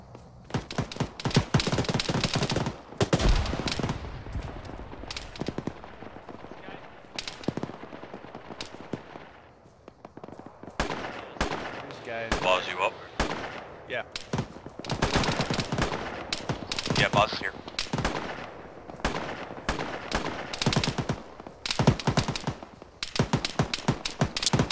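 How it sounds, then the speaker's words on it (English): Bursts of machine gun fire and other gunshots crack out repeatedly in a military video game firefight, loud and dense with short pauses between volleys. "I can't find this machine gun that's shooting at us."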